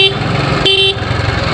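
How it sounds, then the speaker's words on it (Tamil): A car horn honks twice on a two-way road, one very brief toot and then a slightly longer blast a moment later, close and loud over steady engine and traffic rumble. "கன்ஃபார்ம் ஹார்ன் அடிச்சுட்டே ஆகணும்."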